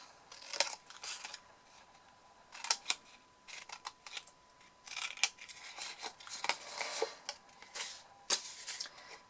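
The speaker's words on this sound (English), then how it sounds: "Just going to cut these little wedges." Scissors snip small wedges out of a folded paper card, with quick crisp cuts in short clusters and pauses between them, heard up close and quiet with no talk.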